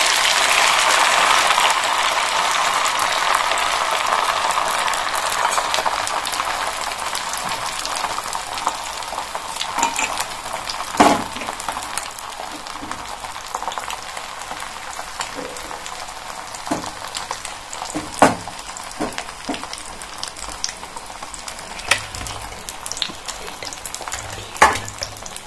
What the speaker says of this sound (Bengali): তেলের মধ্যে ডিমের গোলাটা দিয়ে দেবে।